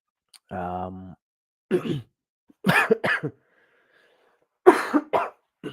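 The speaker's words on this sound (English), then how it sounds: "Sorry, cough's not fully gone." A few harsh coughs in separate bursts, close to the mic, after a short voiced hum, with quiet pauses between them.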